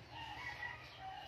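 A rooster crows faintly in the distance over quiet background noise, a short drawn-out call, near hens that keep flying about.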